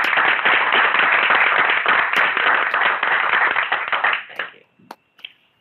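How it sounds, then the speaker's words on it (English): Attendees at a board of directors meeting applaud, a dense burst of clapping from a group that holds steady for about four seconds, then thins out to a few scattered final claps. "I think we ought to give our applause to"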